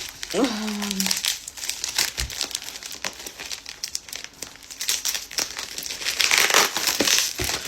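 Packing tape on a mailed book package crinkles and crackles in dense, continuous bursts up close, with a brief voice near the start.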